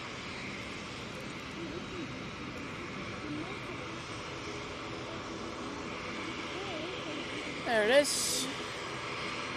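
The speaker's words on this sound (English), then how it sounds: "But we're going to concentrate on this TUI. Off to Cancun, 787-8 Dreamliner." A TUI Boeing 787-8 Dreamliner departs Manchester Airport for Cancun, its jet engine a faint distant rumble beneath someone speaking, with a brief sharp noise near the end.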